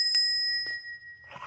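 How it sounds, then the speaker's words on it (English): A bell rings out clearly, with a bright ring struck near the start that keeps sounding as a sustained tone. A second faint strike follows, and some rustling comes at the end. "I should ring a bell for that one."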